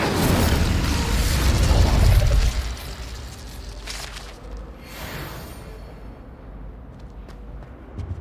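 A fire spell is cast in Hogwarts Legacy with a loud whooshing burst that roars for about two seconds, then fades into softer crackles and clatter.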